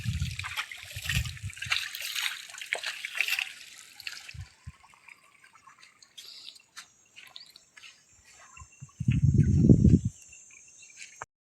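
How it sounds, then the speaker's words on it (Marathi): Cool spring water flows and trickles on a forested hill trail, a soft steady wash with a faint high insect-like whine above it and brief low rumbles near the start and end. "गार पाणी तिकडे, गरम पाणी पुढे."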